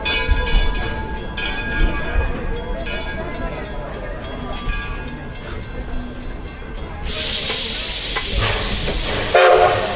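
Steam hiss and a whistle from the Edison No. 1 locomotive at the Old Car Festival 2023. A long, steady tone rises over rumbling train noise, then bursts into a loud, sustained hiss near the end.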